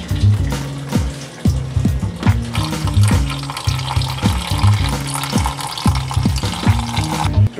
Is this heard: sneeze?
no